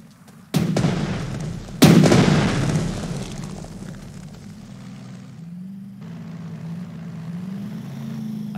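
Artillery fire in the Panzer Strategy war game: two sharp, loud booms a second apart, each trailing into a long rumbling decay, then a lower sustained drone.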